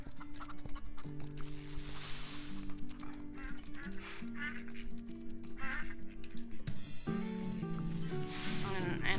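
Ducks on a farm in the video game Farm Together quack repeatedly in layered, overlapping calls over a steady game music bed, with the tones shifting partway through.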